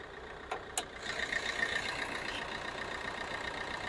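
A 2013 Maruti Ertiga VDI diesel engine ticking over at idle, a steady, moderately quiet hum heard close by after a couple of brief knocks at the start.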